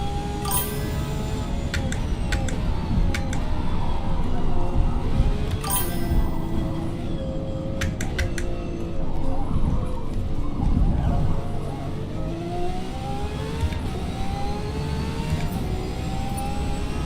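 A 2002 Corvette Z06 in the video game Forza Motorsport, its engine droning and revving up and down continuously through races, loud and close with tire and whir noises, no talk.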